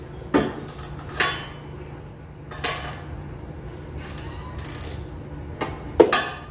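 A T45 Torx bolt being backed out on a 2014 Jeep Cherokee driveshaft gives a few sparse metallic clanks and taps, close by, separated by quiet stretches, with no talk.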